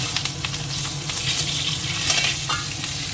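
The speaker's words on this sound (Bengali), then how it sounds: "ভাজা হয়ে গেছে ইলিশ মাছের মাথা," A hilsa fish head and split green chillies fry in hot oil with a loud, continuous sizzle, broken by crackling bursts and the scrape of stirring close by.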